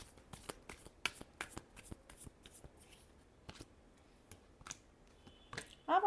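Tarot cards shuffled by hand in a quiet room, a run of soft, crisp riffling flicks and taps at an irregular pace, close and fairly faint, ending in a brief louder rustle.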